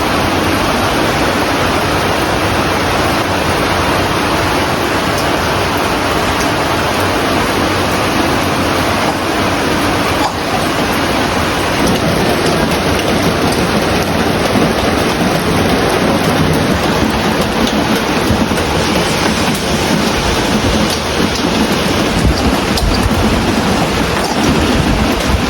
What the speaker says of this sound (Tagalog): Napakaulan na araw today.